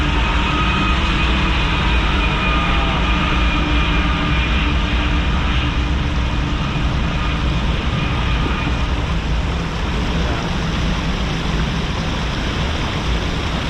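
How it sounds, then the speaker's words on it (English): A train rumbles past close by at Cajon Creek, a steady, loud broadband roar with a faint high whine running through it, no voices. "Train's coming by."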